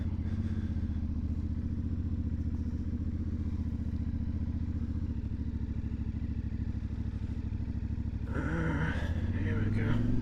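A steady, close idling rumble from a CFMoto 450MT motorcycle engine, continuous and even throughout, with a voice briefly heard near the end.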